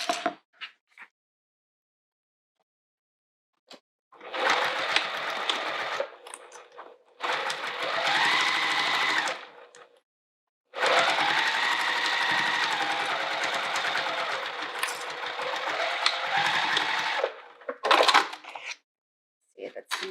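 A sewing machine stitches a small wallet in several bursts of rapid, buzzing mechanical whirring, separated by quiet pauses, with some brief talk in between.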